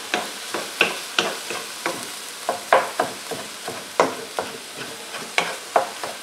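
Ground chicken sizzles in a hot pan while a utensil stirs it in steady, repeated scrapes and pushes, close and clear with no talking.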